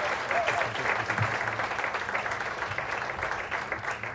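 An open-mic comedy night crowd applauds in a continuous, moderately loud wash of clapping, with faint voices and a few cheers mixed in.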